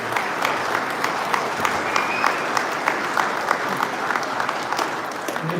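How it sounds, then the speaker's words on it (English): An audience at a lawn-care and battery power equipment talk gives a steady round of applause, with many hands clapping densely and evenly at a moderate distance for several seconds. "Maybe one more round of applause for Kevin O'Connor, if you would."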